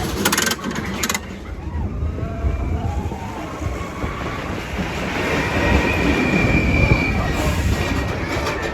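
Expedition Everest roller coaster train rolling on its track at Walt Disney World, a continuous loud rumble with rattling wheels and squealing metal that builds toward the end, with faint voices in the background.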